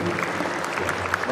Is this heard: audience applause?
yes